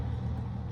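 Cars moving along a road in New Mexico, heard as a short, continuous low rumble of passing traffic with no talking.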